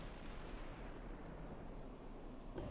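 A torpedo strikes a warship in a naval battle set in the dreadnought era, heard as a dull, faint, rumbling boom with a low broadband roll that carries through the whole moment, with no voices over it.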